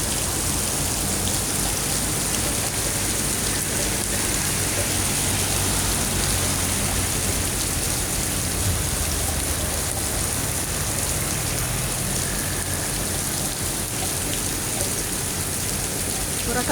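Heavy rain pours down steadily after a clear morning, a dense, even hiss of drops on surfaces that stays constant throughout with no breaks.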